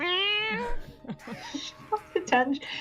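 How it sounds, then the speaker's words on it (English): Cat meowing at a window, wanting in: a long rising meow up close, then softer chirps and mews, with quiet talk and laughter around it. "We're listening to Cable's cat go."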